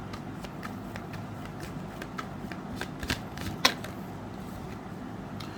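Tarot cards being shuffled and drawn from a deck, a steady papery riffle with several sharper snaps and flicks, close and fairly quiet, with no talking.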